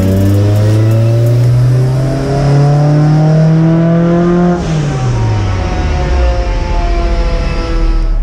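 A supercharged Honda S2000 engine revs hard on a dyno, its loud, steady tone climbing for several seconds before dropping back, then holding a lower, rougher roar, with no talking.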